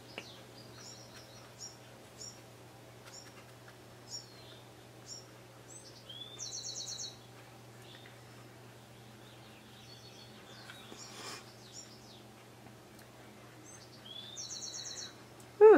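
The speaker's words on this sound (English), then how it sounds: "The birds are singing outside my studio." Small birds chirp and trill outside a painting studio, scattered short calls and a couple of brief rapid trills, faint and distant over a low steady hum, with no talk.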